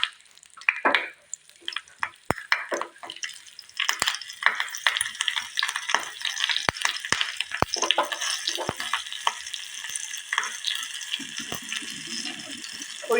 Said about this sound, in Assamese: ইয়াতে মই আধা চামুচ সৰিয়হৰ তেল দি দিছোঁ। ইয়াত মই দুটা কেঁচা জলকীয়া দি দিম।